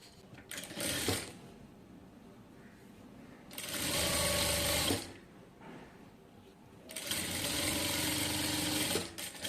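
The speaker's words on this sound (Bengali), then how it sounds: "প্রথমে আমি মোহরিটাকে সেলাই করে নেব" A sewing machine stitches a garment sleeve cuff in three separate bursts of close, steady mechanical whirring, with short quiet pauses between runs.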